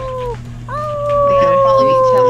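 A player's voice howls like a dog over voice chat during a mobile pirate game: a short drawn-out howl, then a longer, louder sustained one, close to the mic and imitating an animal.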